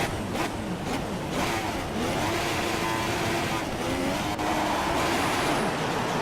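Racing car engines roaring together at a manual race start in the F1 2016 video game, a loud continuous blended drone of revving engines pulling away, steady throughout with no talk.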